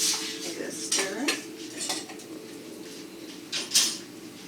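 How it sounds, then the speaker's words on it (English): Metal spoon stirring quinoa in a cooking pot, a few scraping clinks and knocks against the sides spread over several seconds, fairly quiet with no talk. "Give it a stir."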